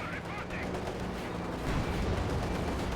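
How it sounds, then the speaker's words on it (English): Gunfire in the World War II strategy game Company of Heroes 2, a Soviet versus OKW match: dense, continuous rattling shots and rumbling battle noise, growing heavier partway through. "Shots bouncing or missing."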